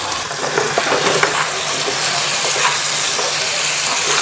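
Chopped vegetables with turmeric, cumin and salt fry in a pan with a loud, dense, close sizzle, dotted by a few utensil clicks and scrapes.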